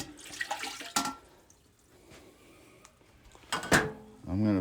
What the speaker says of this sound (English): I'm going to add about 12 ounces of water.